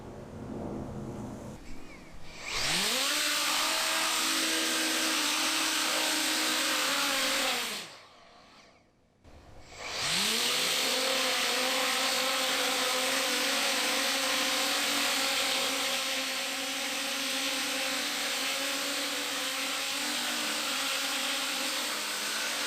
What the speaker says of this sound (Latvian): Tātad drons lido, bet tas nav lieliski.